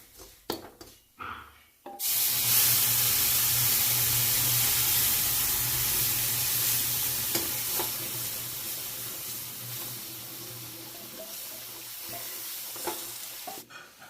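Hot water is poured onto chaunsa browning in a hot pan, bursting into a loud, continuous sizzle that slowly eases off over several seconds, with faint stirring and scraping and no talk.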